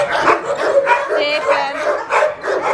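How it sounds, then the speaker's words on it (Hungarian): A small dog barks and yips rapidly and close by, a steady run of high sharp barks with a person speaking briefly over them. "Hát egy kicsi kutya."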